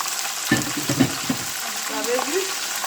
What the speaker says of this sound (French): on va mettre notre poisson comme ça et laisser frire